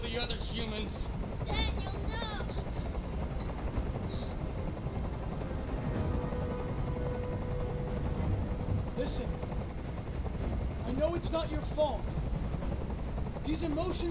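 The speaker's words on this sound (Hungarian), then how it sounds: "És a helikopter itt van, srácok." Helicopter in the video game Detroit: Become Human, a steady rotor drone throughout with scattered gunfire-like bursts and other game sounds layered on top.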